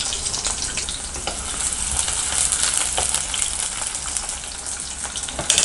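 Small onions frying in hot oil for village-style mutton kuzhambu, a loud dense sizzle with crackles and stirring scrapes running the whole way.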